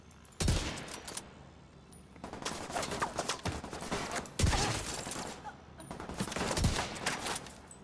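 Video game gunfire in The Division, several sharp, loud shots and short bursts at irregular intervals, with rattling automatic fire in between and quieter gaps.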